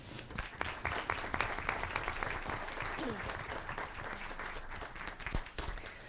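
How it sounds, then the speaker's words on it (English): Audience applause for primary school Students of the Month at a school board meeting, a steady wash of clapping across the whole stretch with scattered louder claps and faint voices underneath. "Let's give all of our wonderful Students of the Month from Wilcox Primary School a round of applause."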